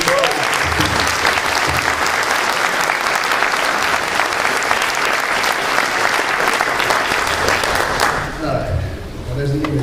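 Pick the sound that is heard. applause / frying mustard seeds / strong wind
applause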